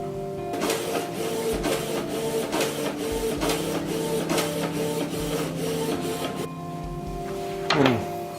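An inkjet printer prints a waterslide decal, with a mechanical whir and repeated rhythmic carriage passes, steady and close, ending in a short rising motor whine as the page feeds out.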